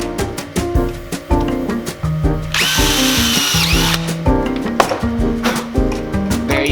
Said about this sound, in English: now we're gonna drill the second hole